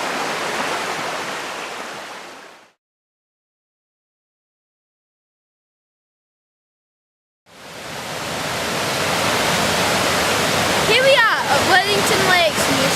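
The River Douglas rushes as a loud, steady broadband flow near a tunnel, cutting out for several seconds before returning, with a voice briefly audible over the water near the end.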